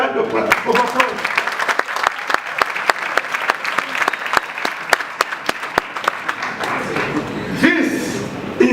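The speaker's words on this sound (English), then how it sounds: "Let's give a round of applause." Loud, sustained audience applause after a speech about an African world university, dense clapping with sharp individual claps standing out near the microphone throughout.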